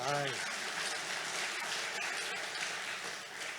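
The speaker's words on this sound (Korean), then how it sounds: "박수 한번 쳐주세요." Clapping from a church congregation at a Korean mission talk, a broad steady wash of hands that follows a brief spoken phrase at the start and holds at a fairly even level throughout.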